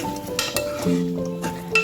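A spoon scrapes and clinks against a pot of dal after salt is added, in a few quick strokes, with a faint sizzle and a steady hum underneath.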